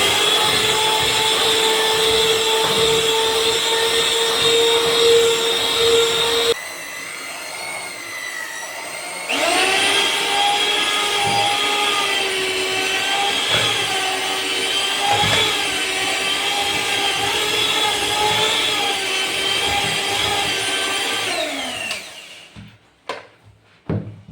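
An electric beater kneads pizza dough for paneer tikka pizza, giving a loud steady motor whine that briefly drops in pitch, resumes for a long stretch, then winds down and stops.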